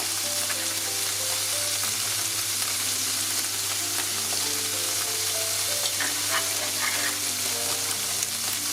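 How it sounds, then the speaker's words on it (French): Tofu drying out in a hot pan, giving a loud, steady sizzle and crackle of frying that fills the whole stretch, close and unbroken, over a faint low hum. "je fais dessécher le tofu pendant, je dirais, à peu près 1 minute à 2 minutes"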